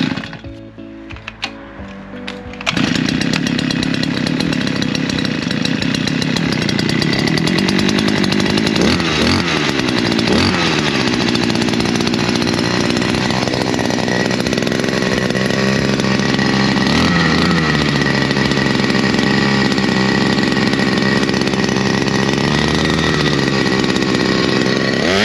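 A petrol chainsaw or pole hedge trimmer engine fires up after a few seconds and runs loud and steady nearby, high-pitched and buzzing, with the revs rising and falling several times.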